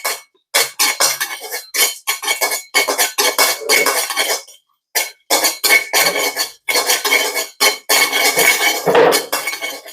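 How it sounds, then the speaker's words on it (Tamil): Cardamom pods roast in a pan as they are stirred quickly, giving loud, rapid metallic scraping and rattling in near-constant bursts, close up and with no voices. "நாங்களும் ஏலக்காய் வறுத்து எடுக்க பார்ப்போமா?"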